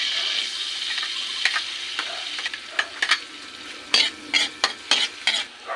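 Onion, garlic, ginger and chilli sautéing in margarine for mussel sisig, a steady sizzling fry with repeated scraping, stirring clatters of a utensil against the pan, growing busier toward the end.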